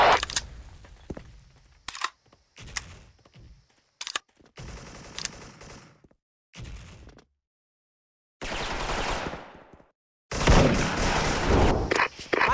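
Grenade explosions and gunfire in SF Rush, loud bursts and bangs broken by silent gaps, with short clusters of shots and longer blasts roaring near the end.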